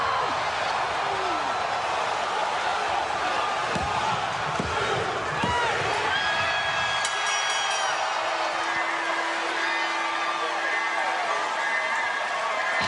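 A wrestling crowd at the Lockdown 2012 event roars steadily in a loud, dense wash of cheering, with a sharp slam and scattered whoops. A commentator talks over it.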